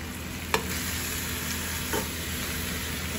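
Tomatoes sizzling in hot oil for Pakistani Lahori-style mutton palak, a steady loud frying hiss with a few sharp clinks of a stirring spoon.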